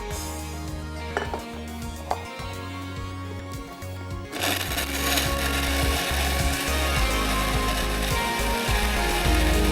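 A blender grinding raw mango with water: a few light clatters and knocks at first, then the motor kicks in to a loud, continuous grinding whir that holds to the end.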